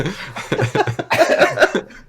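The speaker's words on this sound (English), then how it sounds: "He's coughing." A man coughing hard in a string of about a dozen rough, raspy bursts, close to the mic, quickening and growing louder toward the end, with no speech.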